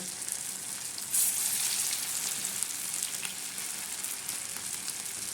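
Mung dal bhaji frying in hot oil, giving a steady, dense crackling sizzle that holds evenly close up, with a brief louder burst of spatter partway through.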